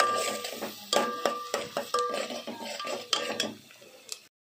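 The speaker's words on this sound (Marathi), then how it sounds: "कांदा भाजून घ्यायचा आहे, हलवत राहायचं।" Onion being stirred and roasted in a pan for pav bhaji, with a series of close metallic scrapes and clinks of a spoon against the pan in a steady stirring rhythm.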